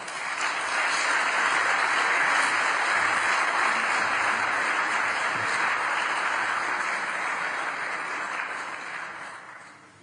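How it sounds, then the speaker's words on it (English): An audience applauds after a speech at a Slovak university, giving a dense, steady round of clapping that holds for several seconds and then fades toward the end, with no talk over it. "But first, an applause for my speech."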